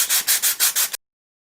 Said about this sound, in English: Now take 240 grit sandpaper, fold it over and smooth it over there.